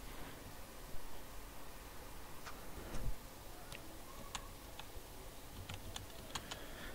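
An OTP is typed on a computer keyboard as faint, sparse key clicks scattered over several seconds beneath a steady hiss, with no talking.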